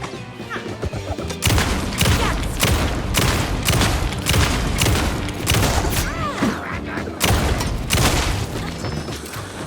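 Gunfire in the video game Alan Wake II: loud, rapid, repeated shots and crashing impacts that continue almost without a break, close and dominant, with no speech over them.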